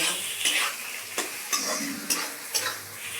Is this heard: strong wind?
no